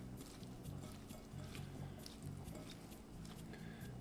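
Hands toss a raw asparagus and cucumber salad dressed with lemon, salt and olive oil, giving soft, faint, wet squishing and rustling in a steady rhythm up close.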